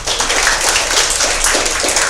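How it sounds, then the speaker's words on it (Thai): Students in a Thai school physics class clapping for themselves after an Ohm's law experiment, a dense, steady burst of applause from a group close by, with no talk. "ปรบมือให้ตัวเองหน่อยลูก"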